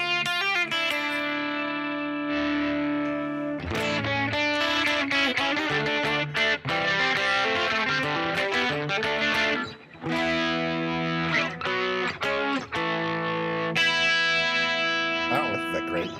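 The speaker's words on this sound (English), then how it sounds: "with the distortion, it'd be like this." Instrument played through distortion and chorus effects, thick sustained chords and fast runs with a gritty, shimmering tone, loud and continuous with only brief gaps.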